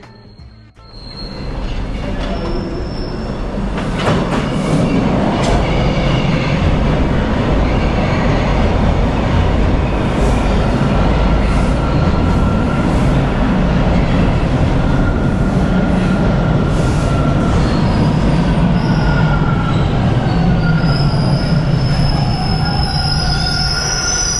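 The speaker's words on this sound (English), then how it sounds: "it sounds like there's an eastbound train about to pull in" A subway train rumbles steadily into Warden Station, wheels screeching high and long over a loud, continuous roar that builds quickly and holds.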